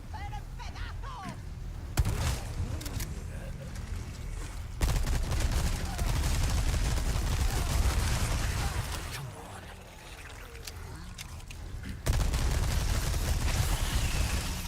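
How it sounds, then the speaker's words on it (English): Rapid gunfire rattles through Resident Evil 4 Remake in loud, dense bursts separated by short lulls, with game sounds and a voice mixed in underneath. "I'm panic shooting."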